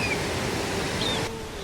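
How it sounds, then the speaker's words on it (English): Baker's Falls in Horton Plains, Sri Lanka, gives off a steady broadband rush of falling water, close and even, with no talk over it. "one of the most beautiful waterfalls in all of Sri Lanka, hidden inside Horton Plains"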